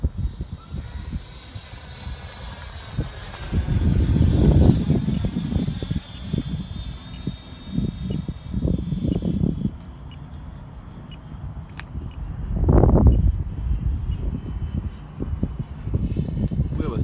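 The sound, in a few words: Freewing F-5 model jet plane flying past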